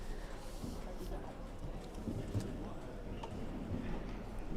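A horse's hooves strike the ground in a soft, rhythmic clip-clop during a showjumping round at the Jeep All Stars Show, Bury Farm, heard at a distance under steady commentary.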